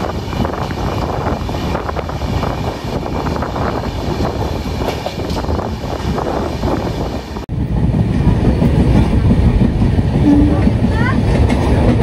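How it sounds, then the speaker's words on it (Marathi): Train arriving at a station on the way to Mumbai, a loud continuous rumble and clatter of rail cars with wind buffeting the microphone, growing louder and heavier in the second half, with faint voices in the background. "फायनली आता आपली ट्रेन आलेली आहे"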